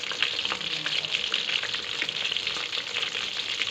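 Small pieces of fish frying in a pan of hot oil, a steady dense sizzle with crackling spits throughout, close and fairly quiet, with no talking over it.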